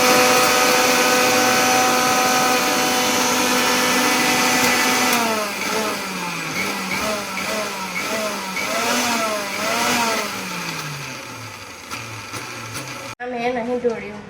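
An electric mixer grinder blends ginger, green chilli and garlic into paste, a loud steady motor whine that later wavers and dips in pitch as the load shifts, then cuts off abruptly near the end.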